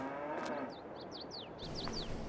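Cows mooing at a cow barn in Farming Simulator 22, a low sustained moo near the start, with chirping birds over farm ambience.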